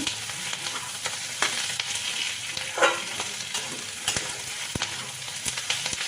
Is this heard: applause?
no